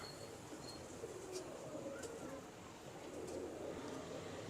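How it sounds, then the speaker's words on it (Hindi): A Sheikhupuria pigeon coos softly at close range among low, steady background noise, with a few faint chirps mixed in and no speech. "ये शेखुपुरिया कबूतर एक दिखाया।"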